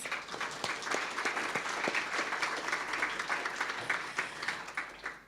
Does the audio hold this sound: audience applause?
yes